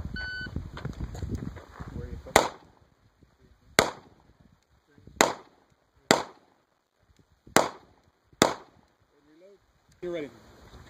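Pistol shots ring out at an ICORE shooting match at an outdoor gun club range: six loud, sharp reports spaced about a second or more apart, with faint voices before and after the string.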